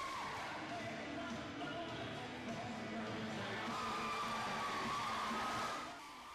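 Students cheer for a Mr. BU candidate at a campus charity pageant, a continuous loud crowd roar with shrill whistling tones running through it, then easing slightly at the end.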